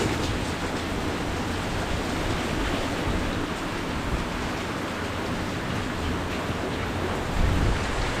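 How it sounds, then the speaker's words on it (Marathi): Heavy rain pours down in a dense, steady roar of broadband hiss that holds without a break from start to end, loud and close. "खूप जोरदार पाऊस चालू आहे आमच्याकडे आज."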